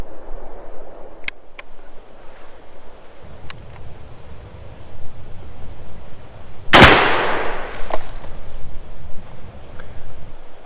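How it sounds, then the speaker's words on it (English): A single sharp report from a T/C Hawken muzzleloader rifle firing a 50 caliber patched round ball on a reduced 60-grain powder charge at a Gatorade bottle, set against steady outdoor insect chirping and faint background noise. "I now have the rifle loaded with a 50 caliber patched round ball. I also decreased my powder charge from 90 grains down to 60 grains."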